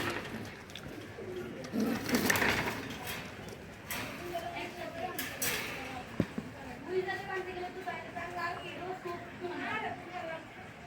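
Giribaz and Chila pigeons coo in soft, repeated rolling calls that grow clearer in the second half. Human voices talk over the birds, and a sharp knock sounds partway through.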